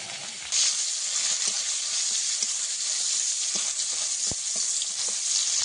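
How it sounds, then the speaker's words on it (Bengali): Chopped onion frying in oil seasoned with panch phoron, giving a steady, close hiss of sizzling with occasional faint ticks and light taps, and no one speaking. "দিয়ে দেবো পেঁয়াজ কুচি,"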